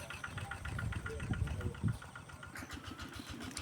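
An engine-driven pump runs beside a pond while draining its water, a steady mid-pitched engine chug close by with rhythmic pulsing and a brief louder surge, heard alone without voices.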